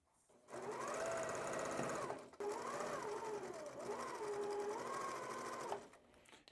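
A sewing machine stitches quilt block pieces in two long, steady runs, the motor whirring and rising and falling in pitch, with a brief pause between runs.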